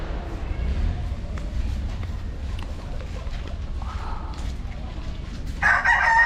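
Gamefowl roosters crowing and clucking at a breeding farm, with a loud crow near the end over constant low rumble and background chatter.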